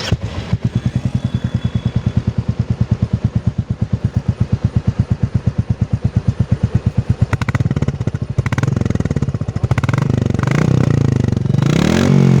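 A 2021 Royal Enfield Classic 350 Reborn motorcycle engine runs close by with a steady, loud single-cylinder thump. It then revs up into a rougher, louder roar toward the end.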